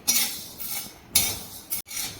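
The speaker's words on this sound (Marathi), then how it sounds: "हे हुलगे आपल्याला मंद वरतीच खमंग वास येईपर्यंत भाजून घ्यायचे आहेत" Horse gram being dry roasted on an iron griddle over low heat, three bursts of dry rattling and scraping as the seeds are stirred, with quieter gaps between.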